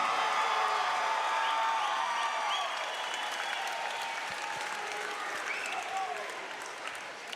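A crowd at an MMA pro bout applauds a guillotine-submission winner with sustained, dense clapping that stays steady and loud, then tapers slightly toward the end, with scattered cheers and whoops.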